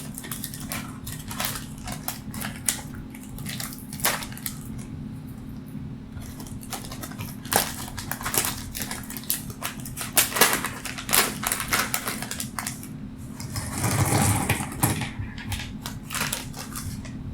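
A plastic pack of fifty 20mm diameter rings being opened, with a run of crinkly crushing and tapping crackles, quick irregular clicks and a louder rustling burst near the end, close up with no talk.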